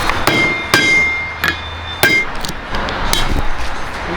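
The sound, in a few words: hammering a U-joint into place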